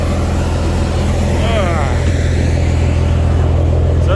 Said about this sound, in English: So is the sound of this truck.